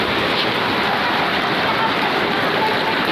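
Steady heavy rain hisses down over a flooded neighborhood of rented homes, a dense continuous wash of noise with no breaks and no voices.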